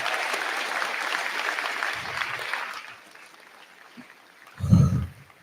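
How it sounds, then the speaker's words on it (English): Graduation-ceremony audience applauding the third group of graduates, a broad steady clapping wash that fades out after about three seconds, followed by a brief louder thump or voice burst near the end. "Let's have another round of applause for our third group of grads."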